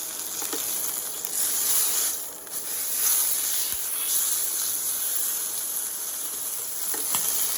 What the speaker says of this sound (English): we're going to keep repeating this until all the sides of the pork are seared